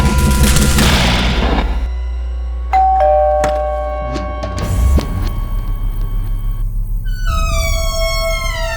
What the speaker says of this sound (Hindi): हम सबके घरों में दिन में कई बार डोरबेल बजती है।